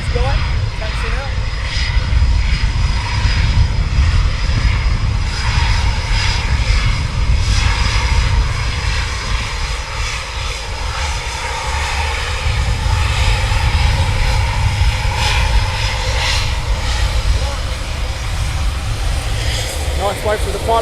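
Steady, loud roar of military aircraft taxiing at RAF Coningsby, a continuous engine drone and whine close by that holds level throughout, with a voice briefly heard over it.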